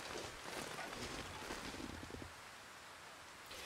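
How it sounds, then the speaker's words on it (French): Lingering wind in the snowy survival game The Long Dark, a faint, steady broadband howl that stays even throughout with a slight rumble early on and no talk over it. "Il y a toujours une sorte de résidu de vent."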